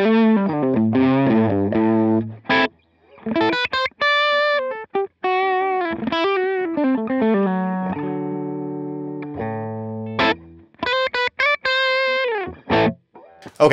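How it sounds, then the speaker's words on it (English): Electric guitar played through a Line 6 Pod Go preset with reverb switched off, loud and distorted, with sustained chords and single-note lines, abrupt stops and gaps, and no talking. "Let me just turn the reverb off on here. And this is what this little preset through the Magic Channel 1 sounds like."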